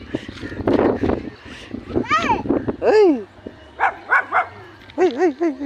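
Puppy yelping and whimpering in high, rising-falling cries, several short calls in bursts, close by, mixed with people talking excitedly.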